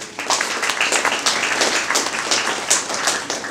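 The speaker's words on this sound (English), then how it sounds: "A round of applause for our teachers." Audience applauding teachers at a televised quiz show event, a dense steady patter of many hands clapping close by for a few seconds, fairly loud and without talk over it.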